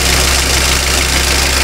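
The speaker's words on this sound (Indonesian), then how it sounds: "ini dari mesinnya, kelihatan fine. Suaranya pun halus." A silver 2013 Toyota Avanza Veloz 1.5 with automatic transmission idles steadily, giving a smooth, even hum with a low throb close by and no voices.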